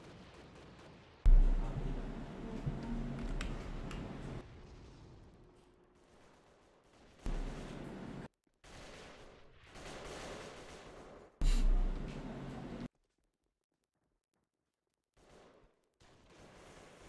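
Gunfire comes from above in the shooter AVA during a 2013 Super League final match. Several loud, booming bursts of shots are broken by quieter gaps, and the clip ends in near silence.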